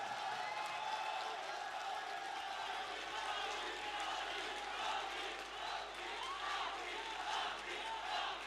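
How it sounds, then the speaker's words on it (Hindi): A crowd at a poetry mushaira in Sargodha greets poet Tehzeeb Hafi with sustained cheering, whoops and clapping, a dense, roaring wash of many voices that continues throughout. "भरपूर तालियों से इस्तकबाल करें।"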